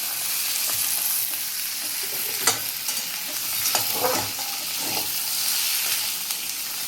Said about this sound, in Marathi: आता आपण बटाटे टाकून घेऊया चिरलेली. वगैरे सगळं त्याच्यामध्ये मिक्स करून घेऊया व्यवस्थित.